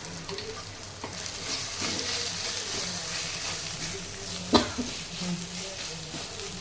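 Coriander powder being stirred into eggplant frying in a pan, a steady close sizzle with spoon scrapes and one sharp clack partway through.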